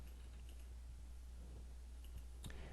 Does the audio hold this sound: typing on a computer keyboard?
yes